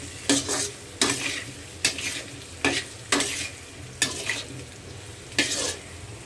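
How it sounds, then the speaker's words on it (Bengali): Potato pieces with salt and turmeric fry in a pan, a soft sizzle under six or seven loud, regular stirring scrapes of a spatula against metal, close by with no talking. "এই যে এখানে আমি আলুটাকে ভালো করে নুন হলুদ মিশিয়ে ভেজে নিচ্ছি।"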